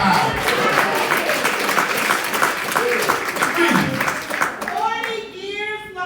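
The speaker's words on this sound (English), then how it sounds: "Clap your hand" A church congregation clapping hands together, a loud dense burst of applause with voices mixed in, fading out toward the end.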